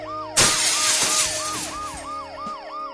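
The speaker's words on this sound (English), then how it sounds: "The noise the ambulance makes will cover the sound of the glass breaking." Ambulance siren in the video game Dead Synchronicity, a loud repeating wail that rises and falls in quick cycles, with a burst of shattering glass at the start under it.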